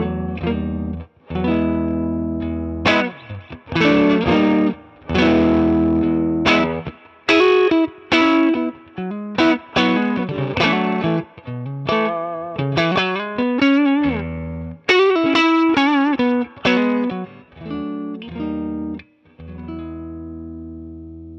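Electric guitar played through a Two Rock Studio Signature amp with slight overdrive: choppy chord stabs and singing single-note lines with a gritty midrange edge and light echo, close and loud, no voices.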